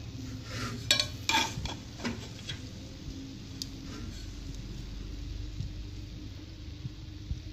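Mutanjan rice being stirred in a pot, with a few sharp spoon-against-pot clicks and scrapes early on, then softer, quieter mixing over a low background hum.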